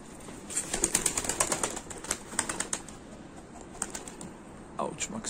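Young pigeons beat their wings in flight during training, a quick run of dry flapping bursts close by that fades and returns, with faint cooing and ambient noise around it.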